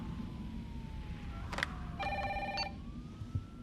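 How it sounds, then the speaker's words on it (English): A telephone rings in the Resident Evil 3 video game, heard as a faint electronic trill in short bursts over a low background rumble, with no voices. "Your phone ringing."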